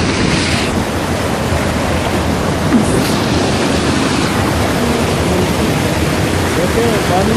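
Heavy rush of water flowing through a canal swollen after rains, a loud, unbroken roar up close with wind buffeting the microphone throughout.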